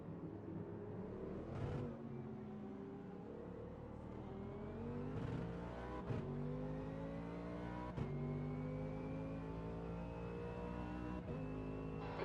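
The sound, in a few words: race cars in Automobilista 2 racing video game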